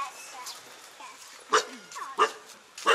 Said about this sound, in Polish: piesek na nas czeka